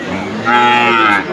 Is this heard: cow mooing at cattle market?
yes